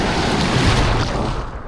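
Sea surf breaking at Hayle beach, Cornwall, a loud close rush of churning water with wind buffeting the microphone, continuous and fading slightly at the end.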